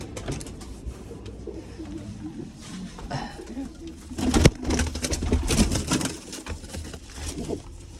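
Pigeons in a loft coo steadily at close range, soft repeated throaty calls with light shuffling and wing patter, and a brief louder burst midway.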